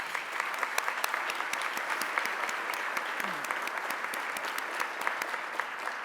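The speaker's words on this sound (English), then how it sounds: "if we could give a round of applause for all of our sponsors tonight" Sustained audience applause at an anniversary gala honoring its sponsors, dense steady clapping from a large crowd with a few sharper claps standing out, continuing evenly throughout.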